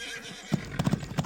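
Horses of an Egyptian army with chariots, their hooves clip-clopping in several quick, uneven strikes that start after a brief quiet moment, moderately close and heard alone without any voices.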